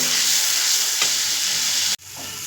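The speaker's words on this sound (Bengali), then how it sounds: "এখানে দিয়ে দেব হলুদ দিয়ে খুব সুন্দর করে মশলাটা আমি কষিয়ে নেব" Loud, steady sizzle of a spice masala with chilli powder and turmeric frying in oil, a close continuous hiss with a faint scrape midway before it abruptly cuts out and resumes.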